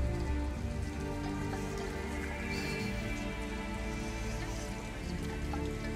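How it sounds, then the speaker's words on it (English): Heavy rain in the video game Detroit: Become Human pours steadily and evenly on a surface, a dense hiss with soft spattering drops and a low tonal hum underneath. "Okay, it's chucking it down with rain."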